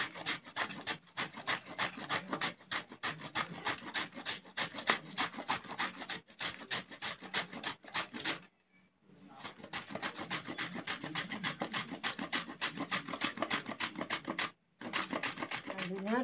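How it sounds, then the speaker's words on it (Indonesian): Carrots rasped on a hand grater in a home kitchen, a steady run of rapid scraping strokes, close and loud, with two short pauses. "Bahan wortel kita parut yang pertama"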